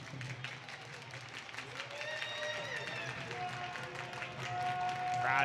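A crowd at a women's college volleyball match in an indoor gym claps and cheers, the noise fairly distant and low under steady commentary, swelling slightly toward the end.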